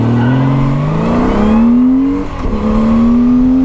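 A Honda Valkyrie Rune motorcycle accelerates hard through a 0-60 run, its engine note climbing steadily in pitch, dropping briefly at a gear change, then rising again, loud and close with no talk.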